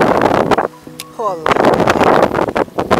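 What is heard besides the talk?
strong wind blowing while casting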